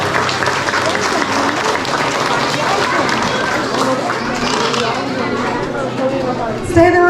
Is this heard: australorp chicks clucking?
no